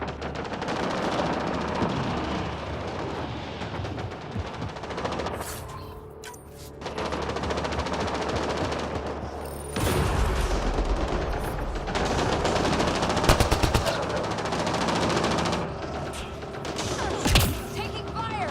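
Sustained automatic gunfire in the Mass Effect Andromeda video game, with dense rapid bursts and heavy impacts over a continuous loud battle din, with voices calling out between shots.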